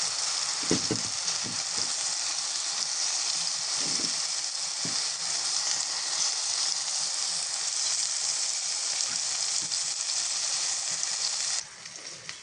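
Eggplant coated in turmeric, salt and chili paste fries in hot oil, a loud, steady close sizzle with occasional soft stirring taps, easing briefly near the end.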